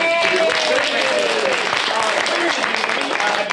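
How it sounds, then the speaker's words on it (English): A crowd applauding, dense clapping that holds steady throughout, with some voices mixed in. "big round of applause for you"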